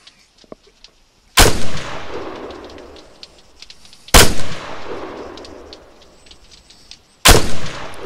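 Three loud rifle shots ring out several seconds apart, aimed at medium-range steel plates in the video game Arma 3. Each sharp crack is followed by a long echoing tail, with faint ticks and clicks between the shots.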